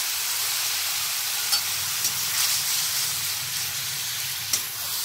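Turmeric, cumin and coriander powder with a splash of water added to hot oil in a pan, giving a loud, steady hissing sizzle with a few faint clicks and no talk.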